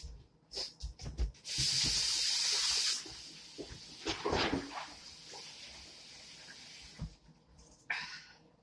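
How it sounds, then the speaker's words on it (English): Tap water runs for a few seconds as hands are washed in a kitchen, a loud steady hiss of flowing water between scattered clatter and handling noises, then a shorter burst of water near the end. "Let me wash my hands."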